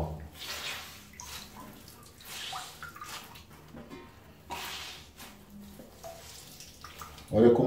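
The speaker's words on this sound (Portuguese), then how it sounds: "Deixa passar bastante água." Tap water runs over a goalkeeper glove being rinsed in a basin, splashing in uneven bursts near the mic, with a person talking in between and a louder splash at the end.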